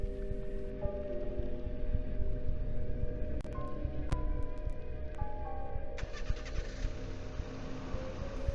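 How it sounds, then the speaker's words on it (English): A game engine starts up in the survival horror game Black Box LSS, with a low continuous rumble running throughout, sharp clicks and clatters around the middle, and a change in tone near the end. "I vaguely heard the sound of an engine starting."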